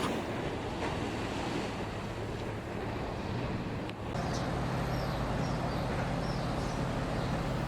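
Surf rolls steadily onto a black sand beach at Saint-Paul, Réunion, a broad continuous wash of waves mixed with wind buffeting the microphone.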